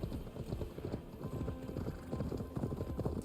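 Horse hooves clip-clop at a steady quick trot in Assassin's Creed Valhalla, a rapid, even rhythm of soft thuds over a low game ambience, moderately quiet and continuous.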